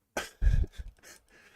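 A man coughs close up, a sharp first burst followed by a heavier second cough and a few softer throat-clearing follow-ups, all within about a second and a half, with no talking.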